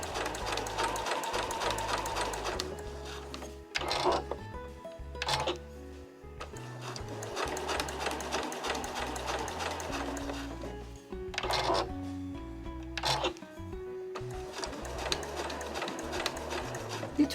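A sewing machine runs a doubled line of perforation-style stitching on a small cotton scrap-fabric house-shaped key case, whirring steadily in long close bursts with brief pauses and clicks between runs.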